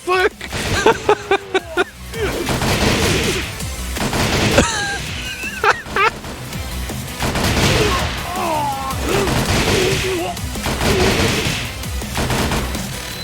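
A Tekken 7 character fires a gun, sharp shots popping in a quick series at the start, then more bursts mixed with fight effects while a voice talks over much of it.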